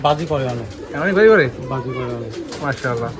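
An Indian pigeon coos in low, throaty rolling calls, close and clear, with a couple of repeated phrases while people talk nearby.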